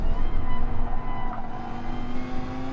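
Race car engines in the video game GT Sport, a steady loud droning roar of cars running close together on track, with the engine pitch holding nearly level throughout and no talk.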